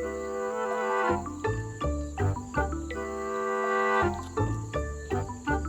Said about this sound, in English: The sound of crickets.